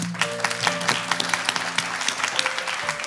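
Studio audience applause on an Indonesian DAAI TV talk show, moderate clapping with scattered sharp hand claps while faint voices and a low tonal hum sit underneath.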